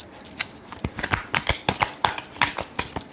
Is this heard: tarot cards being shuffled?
yes